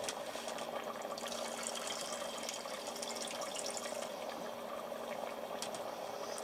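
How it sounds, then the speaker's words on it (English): A cup of water poured into a pot of chili in an electric pressure cooker, a continuous close splashing trickle with no voices. "the last thing we're going to do is add 1 cup of water."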